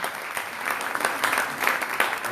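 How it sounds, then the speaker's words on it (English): Audience applause at a small business pitch event, a steady dense patter of many hands clapping throughout, fairly close and loud, with no talking over it. "Round of applause."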